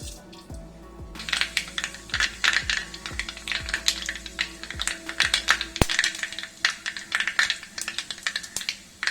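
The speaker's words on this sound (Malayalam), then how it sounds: "എണ്ണ ചൂടായിട്ടുണ്ട്. അതിലേക്ക് നമ്മൾ കടുക് ഇടുകയാണ്." Mustard seeds pop and crackle in hot sunflower oil, giving sharp, irregular close-up clicks that come thick and fast across the whole stretch, with nobody talking.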